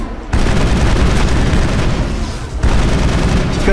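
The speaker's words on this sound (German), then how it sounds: "Die können schön ihre blöden Explosionen dort machen" Explosions and gunfire in the video game Mass Effect: dense, loud, sustained blasts filling the whole clip, with a brief dip before a second heavy burst near the end.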